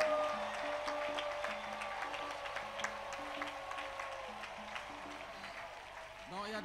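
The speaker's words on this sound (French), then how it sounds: "Si vous voulez applaudir, applaudissez d'abord normalement." Congregation applauding at a French-language church intercession gathering, a steady clatter of many hands clapping in a hall, fairly faint and continuous, with musical tones sounding underneath.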